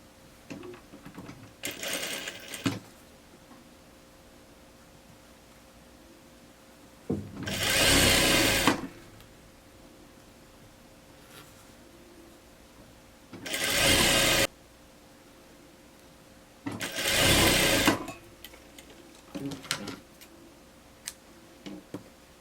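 A domestic sewing machine hems a blouse in three loud, close bursts of rapid whirring stitching, each a second or two long, separated by quieter pauses with faint handling clicks.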